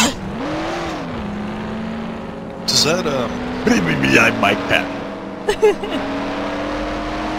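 A person's voice imitates a car engine, with a smooth rising and falling revving drone that runs steadily throughout, while other people talk over it with short bursts of chatter.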